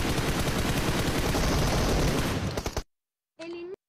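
Sustained rapid bursts of M4 rifle fire in PUBG Mobile, loud and dense for nearly three seconds, then cutting to silence before a brief distorted tonal sound.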